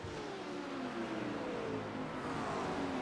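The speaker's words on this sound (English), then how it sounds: "These cars sound absolutely amazing." GT3 race cars in a sim racing game at Watkins Glen give a loud, continuous engine drone whose pitch climbs steadily as they accelerate, with no voices over it.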